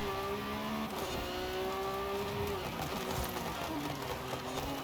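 A Lamborghini Revuelto in the racing game Forza Horizon 5 drives with a continuous engine drone, its pitch shifting slightly through gear changes, heard steadily and moderately loud with no speech over it.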